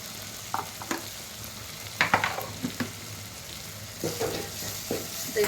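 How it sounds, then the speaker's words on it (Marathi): Red masala with garam masala and red chilli powder roasting and sizzling in a hot pan, scraped and stirred in several distinct strokes over a steady close frying hiss, no talking. "भाजून घ्यायचं लाल मसाला."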